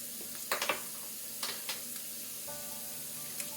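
Onions frying in a pan with turmeric and ginger-garlic paste, a soft steady sizzle with a few brief scraping stirs near the start and middle.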